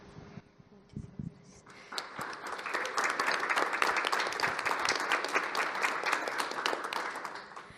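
A seminar audience at an opening session breaks into applause. A few scattered claps come first, then the clapping swells into steady, moderately loud applause that fills the room.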